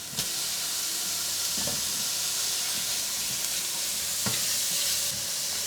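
Fish sizzling in a hot pan with onion and garlic for a seafood risotto, a steady loud hiss of frying with occasional scrapes and stirring clatters throughout.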